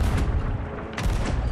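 Cannon fire aboard a pirate ship in the video game Sea of Thieves: a heavy, loud boom filling the clip, with a second blast rolling in near the middle, thick with low rumble and no talk.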